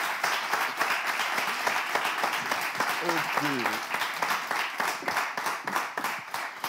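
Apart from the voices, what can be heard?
audience applause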